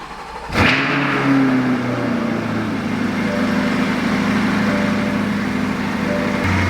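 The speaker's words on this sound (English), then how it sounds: "if you can hear me over the engine on this thing" A 2022 Chevrolet Corvette C8 engine cranks and fires with a sharp burst near the start, then settles into a loud, steady idle that holds for several seconds.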